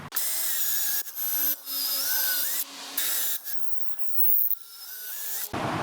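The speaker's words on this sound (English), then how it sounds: "I'm going to drill another 2 holes" A power drill whines at high speed while boring holes, in several sustained loud runs separated by brief stops, with the pitch shifting as the bit bites in.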